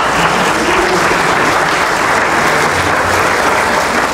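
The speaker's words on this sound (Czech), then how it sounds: "Já bych poprosil potlesk pro oba pány." Dense, loud applause from a political party gathering for two presidential primary candidates, a steady wash of many hands clapping with no talk.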